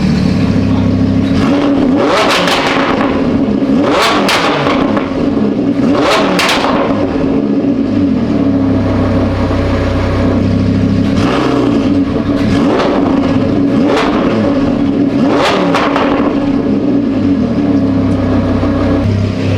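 A loud, raspy straight-piped Lamborghini engine revs hard again and again, each sharp climb dropping back to a rumbling idle, very close and unmuffled.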